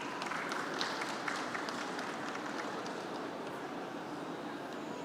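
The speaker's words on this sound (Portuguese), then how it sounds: "Receba com os aplausos." Sustained applause from a conference audience at a Brazilian ports and airports event, a dense steady wash of clapping that holds at an even level throughout.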